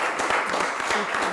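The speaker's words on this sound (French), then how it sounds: "J'aimerais qu'on applaudisse pour ça" Applause from an audience at a talk on women's challenges and opportunities in the legal field, a dense, steady patter of many hands clapping at once, moderately loud and continuous through the moment.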